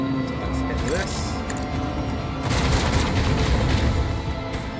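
Torpedo strikes in a starship battle in Warhammer 40k Rogue Trader rumble as muffled booms and crackling impacts, swelling midway over a continuous low drone, with someone speaking over them.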